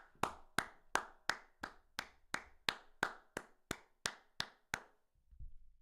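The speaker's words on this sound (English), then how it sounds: "Clap it up. What a fight." About a dozen evenly spaced sharp claps ring out close by at a fight watch party, each with a short decay, before stopping abruptly into near silence.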